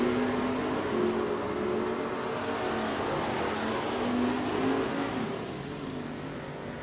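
Drag racing cars at Richmond Dragway during an I-95 Series event, a loud, continuous engine roar that rises and sustains throughout, heard from trackside without talk.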